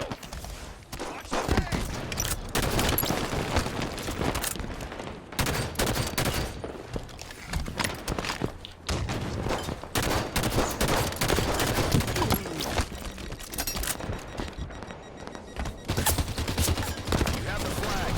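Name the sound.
incineration cannon gunfire in the video game Halo 5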